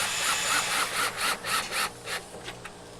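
A mounting screw is driven in while a light fixture is installed, giving a series of close rasping, grinding turns that come in quick rhythmic pulses and slowly fade, with no talking.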